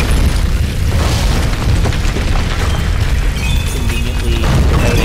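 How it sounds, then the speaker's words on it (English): A fiery explosion in the Tomb Raider video game after something is set alight, heard as a loud, sustained booming roar with crackling debris that fills the whole stretch without any talk. "And I light this on fire. That goes up in flames. And then maybe eventually that thing explodes."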